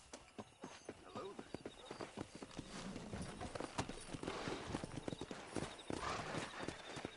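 Horses galloping in Red Dead Redemption, steady rapid clip-clop of hooves with an occasional neigh, fairly faint and mixed with talk.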